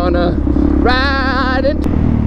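A supermoto motorcycle engine revs up sharply for a wheelie in a short, loud burst that rises and falls, heard up close over steady road and wind noise.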